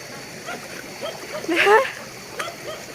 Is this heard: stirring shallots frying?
no